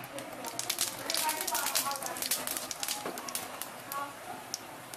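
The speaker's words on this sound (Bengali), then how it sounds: "আলু ভাজার তেলে কয়েকটা জিরা দিলাম।" Cumin seeds crackle in hot oil left over from frying potatoes, a dense, close run of sharp little pops and spits over a steady hiss, fairly quiet throughout.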